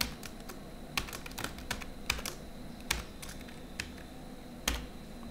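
A computer keyboard is typed on while coding in Android Studio, including an Alt+Enter press, giving a sparse run of close, crisp key taps at uneven intervals.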